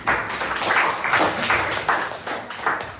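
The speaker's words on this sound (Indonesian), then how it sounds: "Tepuk tangan untuk mereka sendiri." Students in a classroom clap for four classmates who came to the front, a steady burst of applause that rises and falls over about three seconds with no talking on top.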